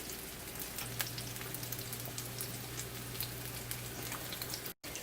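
Fresh onion frying in a pan while cooking spaghetti and meatballs, a soft continuous sizzle with fine crackling pops, steady and fairly quiet throughout.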